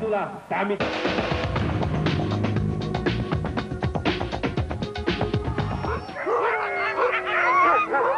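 Nordic dogs howl in long, wavering calls that rise near the end, following a stretch of music with someone narrating over it.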